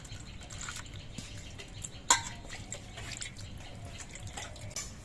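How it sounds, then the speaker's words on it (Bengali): A whole eggplant rinsed under running water in a kitchen, with soft trickling and scattered drips, a single sharper splash partway through, quiet and close with no talk. "আর এই বেগুনটাকে আমি গোটা অবস্থায় ধুয়ে নিচ্ছি"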